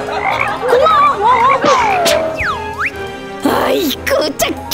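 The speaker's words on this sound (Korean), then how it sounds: "아이고, 저 개구리." A cartoon frog croaks in a children's animated superhero princess pretend-play show, with wobbly, warbling croaks followed by swooping whistle-like sound effects, all loud and close.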